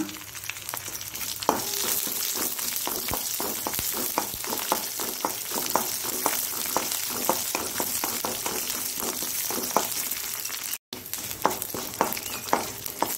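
Urad dal and garlic frying in a pan for a coastal Karnataka saaru, a dense continuous sizzle and crackle with frequent scraping stir strokes, close and fairly loud, no talking.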